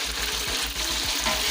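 Washed chicken pieces, about 2.5 kg, frying in a pot for Punjabi chicken yakhni pulao, giving a steady, fairly loud broadband sizzle with a low rumbling undertone throughout.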